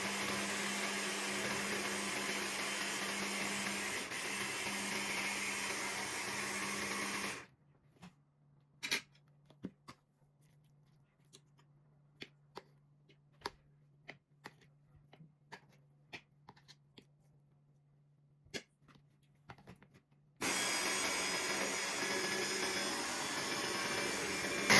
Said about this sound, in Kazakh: оны енді өстіп майдалап турап аламыз да блендерден өткіземіз